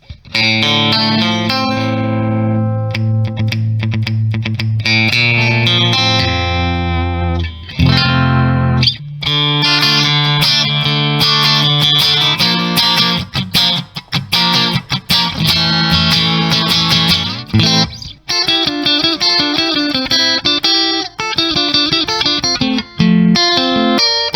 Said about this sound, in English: surf music utilizes a clean guitar sound, so basically no distortion or overdrive.